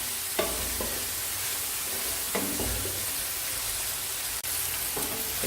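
Coriander powder and black pepper fry over high heat in a pan for aloo keema salan, a continuous close sizzle with a few soft scrapes of stirring now and then.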